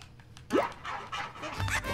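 A virtual dog in Playroom VR pants and licks, giving quick breathy huffs and wet bursts that swell up close in a short, lively run.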